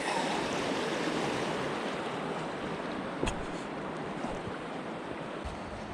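River water rushes through rapids on a trout stream near Seattle, a loud, steady broadband roar that continues unbroken, with one brief knock partway through and no voices.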